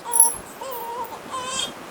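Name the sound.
baby crying loudly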